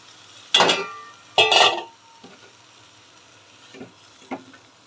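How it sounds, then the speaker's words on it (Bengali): Cut vegetables go into a hot pan in two loud bursts of sizzle, followed by a few quieter scrapes and clinks of stirring against a faint steady fry. "এখন সবজিগুলো দিয়ে দিচ্ছি।"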